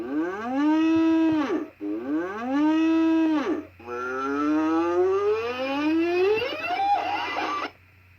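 A Crazy Cow plush toy lets out electronic moos when its button is pressed: two short, loud lowing calls followed by a longer drawn-out moo that rises in pitch, close and alone.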